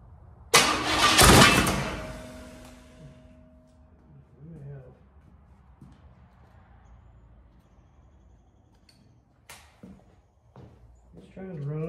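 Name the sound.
Small Block Chevy engine cranking and trying to start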